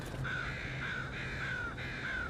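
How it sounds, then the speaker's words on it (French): A crow near a dead crow gives an alarm call, four harsh, evenly spaced caws repeated in quick succession, fairly close and clear over faint background hiss. "Lorsqu'une corneille découvre une corneille morte, l'oiseau lance un cri d'alerte."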